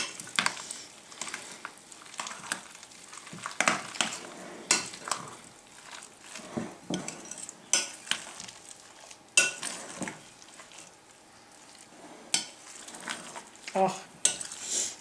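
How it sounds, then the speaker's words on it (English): Hot crab dip ingredients of crab and a creamy blend are stirred together in a bowl, producing close, irregular scraping and clinking of a utensil in continuous uneven strokes, with occasional speech alongside. "Get all that mixed together."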